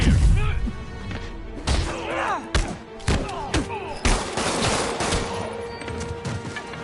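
Rapid bursts of video game gunfire with heavy thumps and crashes, dense and loud, mixed with in-game voices and effects throughout.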